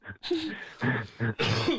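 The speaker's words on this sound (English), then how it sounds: "Coughing going on in the studio." A short burst of harsh coughing and throat clearing, several rough spasms close to the mic, one after another.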